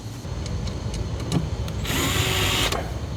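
A power drill drives mounting screws into a washing machine box, whirring in short bursts and then a longer loud run near the end, with close tool handling noise.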